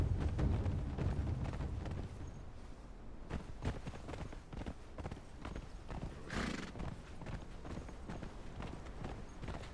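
A horse in Conan Exiles trots and gallops with clip-clopping hooves, irregular then steady hoofbeats close by, with a neigh and snorting breaths mixed in.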